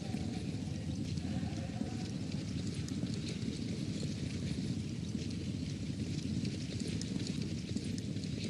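Racehorses gallop in a three-year-old hurdle race at Vichy, a dense continuous drumming of hooves on turf, loud and steady throughout with no break and no voices.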